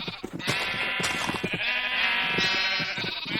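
Sheep bleat repeatedly in Minecraft, the wavering cries loud and close, layered over a steady buzzing game hum.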